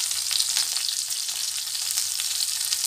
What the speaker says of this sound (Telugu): మంచిగా వేగనియండి.